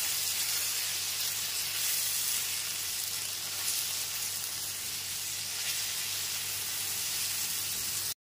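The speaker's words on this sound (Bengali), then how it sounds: "টমেটোটা একটু নাড়াচাড়া করে নেওয়ার পর এর মধ্যে দিয়ে দিচ্ছি হাফ টিস্পুন লবণ আর হাফ টিস্পুন হলুদ গুঁড়ো।" Tomato cooking in a pan with salt and turmeric hisses with a dense, steady sizzle, loud and close throughout, stopping abruptly at the end, with no voices.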